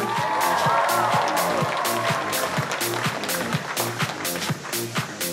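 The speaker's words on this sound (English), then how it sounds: "And one more big round of applause for QB" Crowd applause and cheering for a cosplayer at an Anime Milwaukee 2014 walk-on event, loud and dense, with a steady thumping music beat running underneath throughout.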